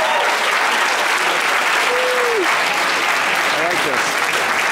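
A big crowd at a Wisconsin high school state wrestling tournament applauds loudly and continuously, a dense, even roar of clapping throughout with faint voices underneath.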